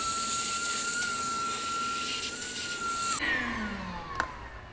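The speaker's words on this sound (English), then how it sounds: "we want to make sure we vacuum the hole out" A vacuum sucking dust and debris out of freshly drilled holes in a floor runs as a loud, steady whine with a high pitched tone, then winds down near the end with a brief clunk.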